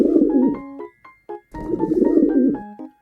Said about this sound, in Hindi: Pigeon, कबूतर।